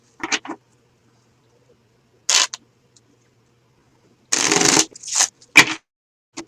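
Deck of cards shuffled by hand during a psychic reading, several short crisp riffling bursts separated by quiet gaps, close and fairly loud, with almost no talking.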